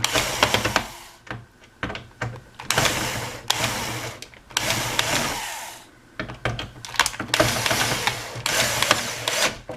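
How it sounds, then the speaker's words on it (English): Power screwdriver driving screws into a monitor stand, heard as repeated loud whirring bursts of a few seconds each, separated by short pauses, close by with no talk. "Get our screwdriver and make sure we don't cross thread them."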